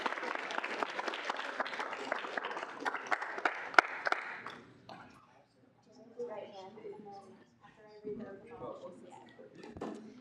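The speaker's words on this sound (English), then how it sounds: "Round of applause." Applause at a student senate meeting, a moderate spread of clapping that fades out midway, after which people talk quietly.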